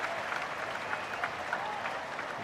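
A ballpark crowd at a Dodgers–Giants baseball game applauds as an injured Max Muncy gets back up, a broad, distant wash of clapping with scattered cheers holding steady throughout.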